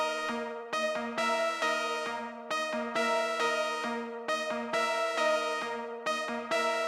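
An Analog Lab synth lead preset plays a melody in a song remake built in FL Studio. Bright, harmonically rich notes repeat in a steady rhythm, loud and up close with no talking.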